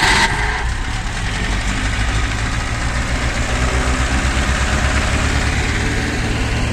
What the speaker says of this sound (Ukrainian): Покажи як пускається мотор.